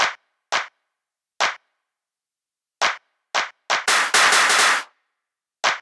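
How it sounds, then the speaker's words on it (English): Sharp layered clap hits in a drum break, struck one at a time with gaps between, then a tight burst of fill claps and one more clap at the end, crisp and loud. "The first clap is layered with the Sesame break, and the second is a fill."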